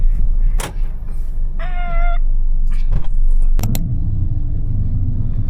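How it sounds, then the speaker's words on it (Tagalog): Road traffic at a roundabout heard from inside a stopped car: a steady low engine and road rumble with a few passing vehicles, a brief high tonal squeal, and clicks and knocks in the cabin, all fairly close. "Na-traffic kami dito sa Rotonda."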